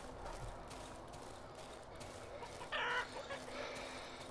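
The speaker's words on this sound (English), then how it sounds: "I wonder what would happen if I killed all these chickens." Chickens in the village of the survival horror game Darkwood: a short burst of clucking rises briefly over a steady low ambient hum, faint and somewhat distant, with no talking.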